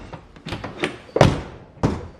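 A 1951 Mercury Monarch's doors handled in a shop: a series of thunks and latch clunks, with two sharper, louder slams standing out among softer knocks, close by.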